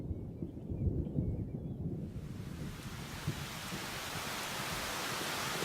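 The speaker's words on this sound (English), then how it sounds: "The violent tropical rain, so typical of this season, will wash away the old scents and clear the air." Heavy tropical rain pours steadily through a forest, a dense broadband hiss that swells from a low rumble into a loud, continuous downpour with no voices.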